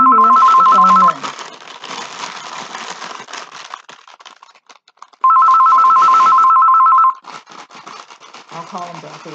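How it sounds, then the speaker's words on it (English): A mobile phone rings indoors with two long electronic trilling bursts a few seconds apart, loud and close, with someone talking in the gaps between rings. "my phone's ringing, it's always ringing"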